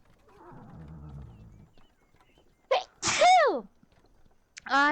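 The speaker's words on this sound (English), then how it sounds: "I sneezed so hard." A sharp, hard human sneeze bursts out loudly up close after a quiet lead-in, followed by another brief sharp burst at the end.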